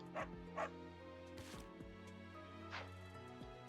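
A dog in the video game Fire Emblem: Three Houses lets out several light barks and a yip, spaced apart over a steady, faint game background.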